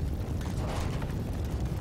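A rumbling, sustained explosion from the video game Fallout 4 rolls on loud and dense for nearly two seconds, with no voices over it.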